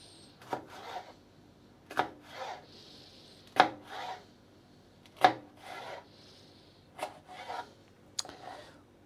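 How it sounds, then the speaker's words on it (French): A kitchen knife slices through a bell pepper on a cutting board, about seven crisp, separate cuts at an uneven pace, close and clear with no talking. "toujours la pointe du couteau sur le plan de travail ou sur la planche à découper et on coupe"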